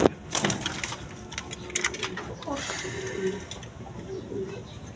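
Pigeons at a Bengali pigeon seller's stall coo and flutter, with wingbeat bursts and scuffling among low cooing across the clip, close and moderately loud.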